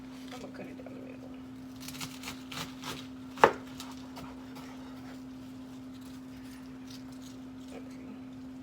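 A knife cuts a cabbage down the middle in a kitchen, heard as a few soft crunching chops building to one sharp, louder cut, over a steady low hum.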